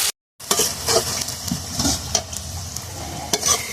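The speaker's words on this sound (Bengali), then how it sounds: "পেঁয়াজ রসুনটা পুরো ভাজা হয়ে গেছে" Onion and garlic frying in a pan with chicken feet about to go in, giving a steady close crackling sizzle with intermittent stirring scrapes and clicks, continuous and moderately loud after a brief silent gap at the start.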